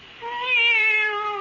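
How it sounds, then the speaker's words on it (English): A single drawn-out meow from a pet cat, one rising and falling tonal cry lasting over a second, close and clear with no talk over it. "It's the cat. She's back."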